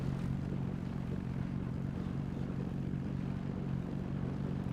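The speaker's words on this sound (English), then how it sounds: "cool sound from the engine." A vehicle engine running in the survival building game Scrap Mechanic, a steady low droning hum that stays constant and fairly loud throughout with no talk.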